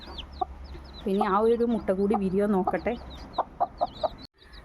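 A brooding hen clucks and murmurs close by, with newly hatched chicks under her in a basket nest, her drawn-out calls and short clucks sounding under a person talking.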